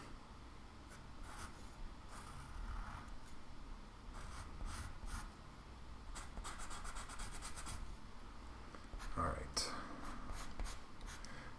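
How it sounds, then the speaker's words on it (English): Colored pencil laying pigment onto paper, soft scratchy rubbing strokes in irregular bursts, close and faint, with a quiet voice speaking briefly. "I want to get enough of this colored pencil pigment down on the paper"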